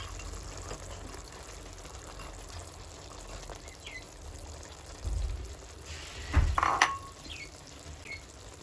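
Onion and meat sizzling in a tagine pot while chickpeas are tipped in: a steady low frying hiss with a clatter and splash of added chickpeas near the end, no talk.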